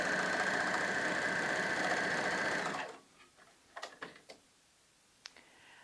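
A coverstitch sewing machine chaining off thread, off the fabric, runs with a loud, steady, fast mechanical whir for about three seconds, then stops, followed by a few light clicks and taps.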